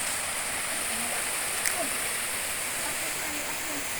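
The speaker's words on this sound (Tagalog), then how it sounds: "ito pa lang yung maliit na falls" Small mountain waterfall pouring steadily, a broad constant rush of water close by with a faint splash partway through and no talk.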